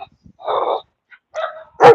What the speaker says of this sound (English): But of course, the dogs are barking.